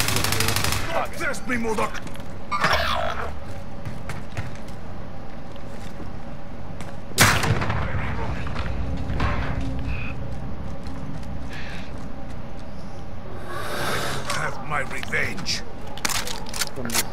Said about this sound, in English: I hear some shooting downstairs.